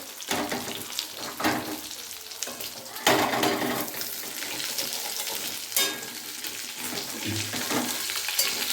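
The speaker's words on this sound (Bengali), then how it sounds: "মাছ ভাজা চলছে" Fish fry in a pan in a home kitchen, a continuous crackling sizzle with irregular spits and bursts of spatter, moderately close and steady throughout.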